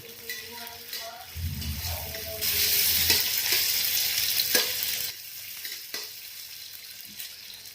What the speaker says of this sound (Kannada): ಸೀಳಿಟ್ಕೊಂಡಿರ್ತಕ್ಕಂತಹ ಮೆಣಸಿನ್ಕಾಯಿನ ಹಾಕಿ ಮತ್ತೊಮ್ಮೆ ಚೆನ್ನಾಗಿ ಫ್ರೈ ಮಾಡಿ